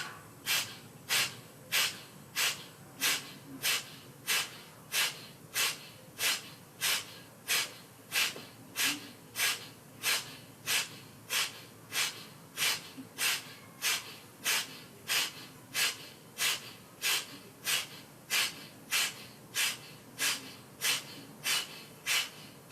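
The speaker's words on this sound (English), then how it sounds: "Kapalbhati." Kapalbhati yoga breathing during an adult vinyasa class, with rapid forceful nasal exhalations pulsing in a steady, even rhythm about once a second, close and loud, with no talking.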